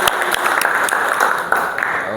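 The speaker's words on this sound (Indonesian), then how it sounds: "untuk semangat kita tepuk tangan untuk satu kelas" A classroom of students applauds together in a steady, dense burst of clapping, loud and close, sustained for a couple of seconds with faint voices underneath.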